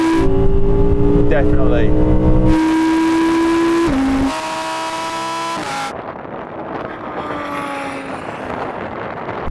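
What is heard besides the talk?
Lamborghini Huracan and Audi R8 accelerating in drag race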